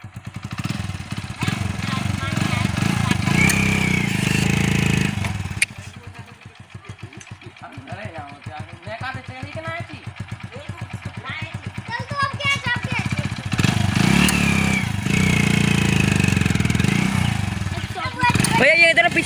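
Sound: motorcycle engine idling and revving

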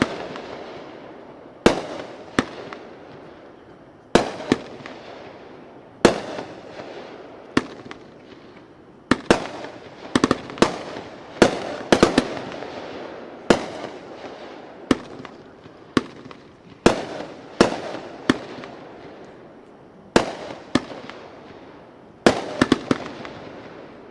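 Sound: fireworks cake Viva Mexico firing 19 shots

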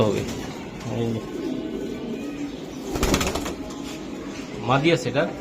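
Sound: Giribaz racing pigeons cooing

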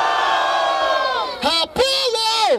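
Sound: crowd cheering at a rap battle

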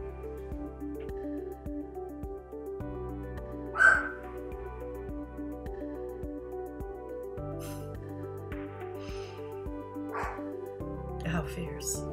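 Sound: dog barking at something outside

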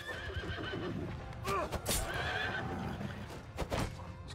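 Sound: horse neighing in battle, from a video game

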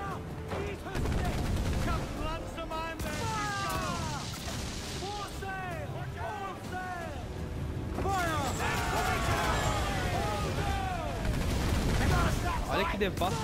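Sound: ship cannon fire and gunfire in Assassin's Creed IV Black Flag video game

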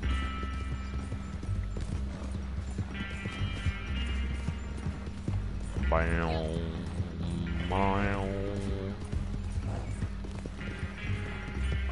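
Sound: horse galloping hooves in Red Dead Online video game

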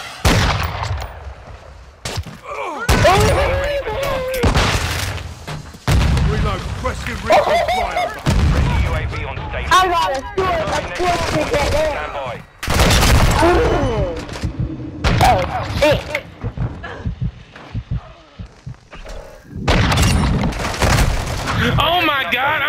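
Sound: SPR rifle gunfire in a shooter video game

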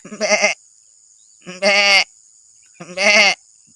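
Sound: man imitating billy goat bleat

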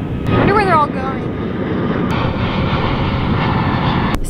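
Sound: airplanes flying over a beach

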